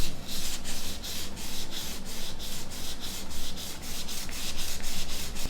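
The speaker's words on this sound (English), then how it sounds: "Now I have here some very fine sandpaper and just do it like so." Very fine sandpaper rubbed back and forth on a Nokia 7390 phone display part, a close, steady series of rhythmic scratchy strokes, roughly two per second, with no talking.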